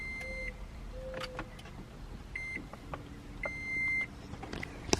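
A 2010-or-later Toyota Prius is switched on, sounding a series of short electronic beeps and chimes at irregular intervals over a quiet cabin background, including one longer tone near the end.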